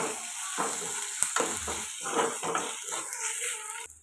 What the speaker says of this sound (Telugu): ఒక స్పూన్ దాకా అల్లం వెల్లుల్లి పేస్ట్ వేసుకుని ఇప్పుడు ఫ్రై చేసుకుందాం పచ్చివాసన పోయేదాకా